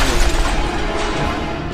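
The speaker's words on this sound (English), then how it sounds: "It actually blows up." A plane crashes and blows up in the video game Just Cause 2 multiplayer, giving a loud, dense burst of roaring noise that fills the short moment with no talking.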